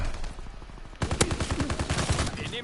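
Gunfire from the PS4 game Call of Duty WWII breaks in after a quieter start: rapid, evenly spaced shots in a sustained burst, loud and close.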